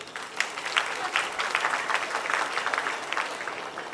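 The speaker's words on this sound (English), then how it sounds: "Let's give them a huge round of applause." A crowd at a university youth festival claps for the event team, a moderately loud, steady round of applause with distinct individual claps, lasting a few seconds without speech.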